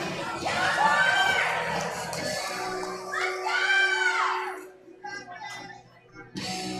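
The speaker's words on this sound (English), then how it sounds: "A lot of yelling from the crowd." A crowd at a USAPL powerlifting meet yells and cheers loudly for a lifter attempting a 170-kilo lift, with excited shouts rising in two bursts before thinning out.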